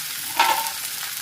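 Crispy fasting thalipeeth frying in a pan as more oil is added: a faint, steady sizzle that swells briefly once, then settles into a soft hiss.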